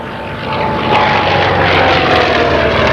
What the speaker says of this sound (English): If you recognize the sound, it's because the PB2 Harpoon